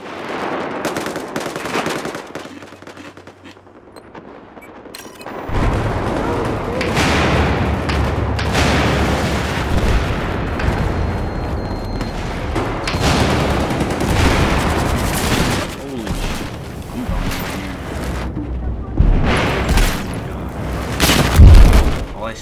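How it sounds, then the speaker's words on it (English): Explosions and automatic gunfire crackle through a Battlefield 4 multiplayer match on Xbox One, a quiet lull giving way to sustained loud battle noise with booming blasts, and a heavy close thump right at the end. "I see the grenades going on."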